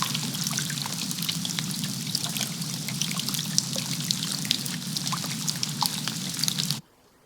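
Steady rain from The Witcher 3 falls on a water surface, a dense continuous patter of fine drips and splashes over a low rumble, loud and unbroken with no talk before cutting off abruptly near the end.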